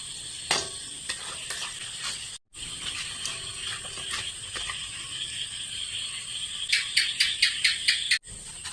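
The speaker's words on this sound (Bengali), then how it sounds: "তার সাথে বন্ধুরা আমি 3টা মরিচ ভেজে নিচ্ছি" Three chillies fry in hot oil with a faint crackling hiss and a quick run of sharp popping bursts near the end.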